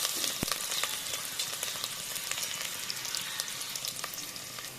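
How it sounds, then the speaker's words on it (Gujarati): Chopped onions sautéing in a pressure cooker until brown for veg pulao: a steady, close sizzle and crackle of frying, with occasional sharp pops and light stirring scrapes. "એકદમ મસ્ત બ્રાઉન કલર થાય ત્યાં સુધી આને આપણે સાતરવાનું છે."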